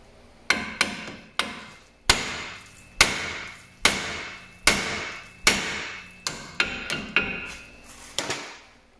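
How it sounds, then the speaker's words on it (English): A hammer pounds a steering knuckle to knock the outer tie rod loose on a GMC Sierra or Chevy Silverado: about a dozen sharp, ringing metallic strikes, close and loud, in an uneven rhythm with brief pauses and no talking. "So some good hits right here will dislodge the tie rod from that knuckle there."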